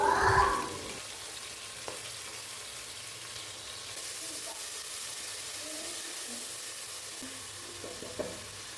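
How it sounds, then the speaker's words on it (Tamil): Ginger garlic paste drops into a hot pan of oil for biryani with a sharp sizzling burst, then settles into a soft, steady frying hiss with faint stirring clicks. "இப்போ இஞ்சி பூண்டு பேஸ்ட்டு போட்டுக்கிறேன்."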